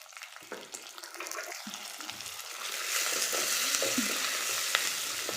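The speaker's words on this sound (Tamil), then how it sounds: "எண்ணெயில் சேர்த்திக்கலாம் இஞ்சி ஒரு துண்டு ஒரு பூண்டு சாம்பார் வெங்காயம் ஒரு ஐம்பது கிராம் போல் அதையும் இதிலே சேர்த்துக்கலாம்" Ginger, garlic and shallots fry in hot oil in a village kitchen, a continuous close sizzle that grows louder and denser partway through, with occasional stirring scrapes.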